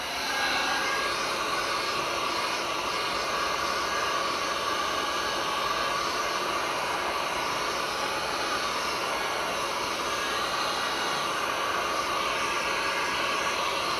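Heat gun blowing hot air over resin thermal color-changing coasters, a continuous steady whooshing roar of moderate level that holds without a break throughout.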